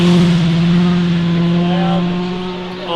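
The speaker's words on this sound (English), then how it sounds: "And as we talk, here comes the first car." A WRC rally car on an Australian rally stage, heard as a loud, steady engine drone close by that fades slightly as the car passes, with no voices over it.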